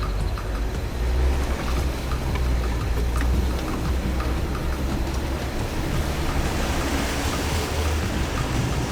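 An Ineos Grenadier 4x4 ploughs through a deep water crossing on the Old Telegraph Track, giving a continuous loud roar of churning, surging water over a low engine drone. Nobody talks.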